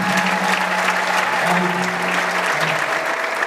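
A church congregation claps loudly and continuously, and sustained high ululating voices ring above the dense, steady applause, which fills the room for a few seconds at an even level.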